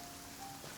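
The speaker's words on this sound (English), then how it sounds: "I love listening to the rain from the courtyard." Steady rain falling in a courtyard in the video game Genshin Impact, a soft, even hiss of drops on surfaces with no talking over it.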